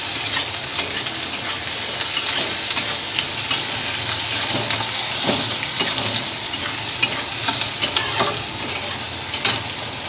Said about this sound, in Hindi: मैंने देखिए इसमें प्याज डाल दिया सब, अब इसको भूनना है